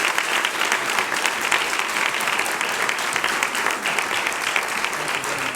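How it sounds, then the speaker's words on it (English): A luncheon audience at the National Press Club gives a sustained round of applause for the speaker, Sen. Marco Rubio; thick, even clapping from a large crowd continues steadily throughout. "How about a round of applause for our speaker?"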